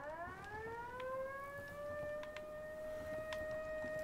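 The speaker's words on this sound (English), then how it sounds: "the siren must be on top of the hill" A wailing siren in the video game Ghost Recon Wildlands rises in pitch and holds a steady tone. It sounds distant and faint over a low rumbling background, with a few sharp clicks and no talk.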